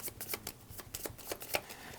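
A deck of playing cards shuffled during a Transformers trading card game draft, with several quick riffling bursts and soft snaps in an even rhythm, close and fairly quiet with no talk.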